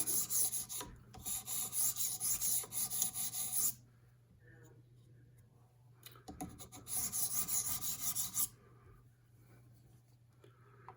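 An S110V steel knife blade is worked on a sharpening stone in two long passes of steady, close, gritty rasping strokes, separated by a quieter pause with faint handling sounds.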